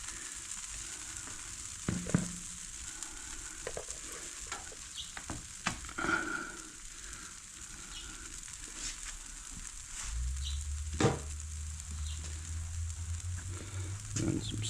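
Eggs fry on a Blackstone griddle, a steady soft sizzle with scattered clicks and scraping taps, and a low hum joining partway through; no one talks.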